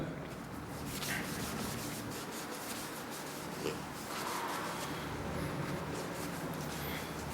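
A hammer is rubbed with an abrasive during restoration, giving a steady, close, gritty scrubbing sound that carries on evenly throughout without pause.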